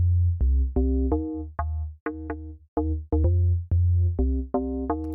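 A SubBoomBass-2 FM synth bass plays without a volume envelope, giving a sequence of about fifteen deep sustained notes with abrupt starts and flat decays in a bouncy rhythm, heard alone.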